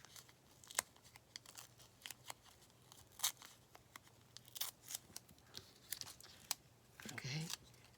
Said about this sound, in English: I want to tear it along here.